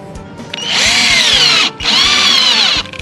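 A power drill drives screws into an old tire being made into a planter, two loud whining bursts of about a second each separated by a brief pause, close up with no voices.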